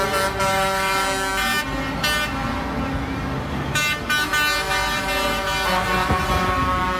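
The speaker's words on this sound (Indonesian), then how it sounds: "Wih, ada mobil truk molen panjang." A long concrete mixer truck drives past beside a large excavator, its loud engine rumble running steadily while a strong horn sounds in repeated toots and longer blasts, close and alone without talk.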